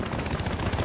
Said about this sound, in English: There's a friendly chopper. Enemy chopper.